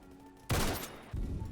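A high-mobility sniper rifle in the Roblox shooter Phantom Forces fires two sharp, loud shots about half a second apart, each cracking out and decaying quickly.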